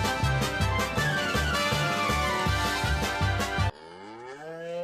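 A Minecraft cow gives a single clear, drawn-out moo at the end, following a stretch of upbeat game music, with no speech.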